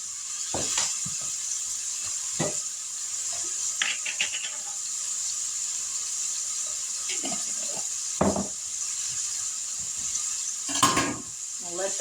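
Hamburger meat frying in a pan on a burner set to low, a steady soft sizzle running throughout with occasional louder clatters and stirring scrapes.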